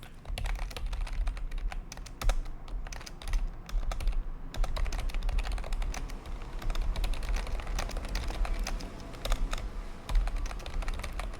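Computer keyboard typing while writing a command: continuous, fast, close clicking of keys in irregular bursts with short pauses, clear and alone, with no voices.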